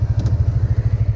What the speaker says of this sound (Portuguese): agora a moto deu a partida